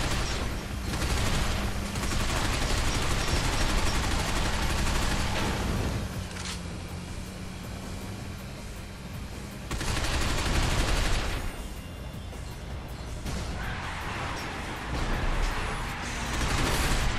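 Rapid bursts of gunfire and shooting mechanisms from the Binary Domain video game, loud and nearly continuous, swelling into dense volleys with brief lulls between them.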